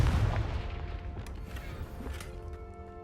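A Confringo blasting spell in the Hogwarts Legacy game explodes with a heavy, booming blast at the start, followed by crackling debris and a fading rumble.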